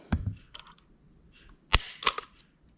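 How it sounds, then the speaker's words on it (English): Single-action trigger pulls on a Taurus 856 snub-nose revolver: sharp metallic clicks, one near the start and a louder pair later, separated by quiet gaps. Close and crisp, with faint handling noise between them. "Single action trigger pull."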